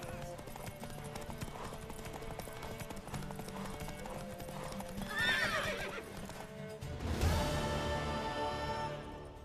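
Steady clip-clop of horse hooves over a busy Witcher 3 game soundscape, then a loud horse whinny rises near the end before fading.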